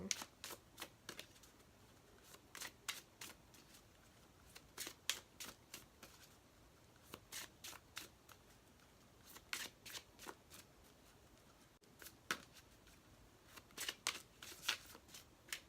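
Tarot cards being shuffled over and over, quick crisp riffling bursts repeating in an uneven rhythm, close and fairly quiet, with no talking.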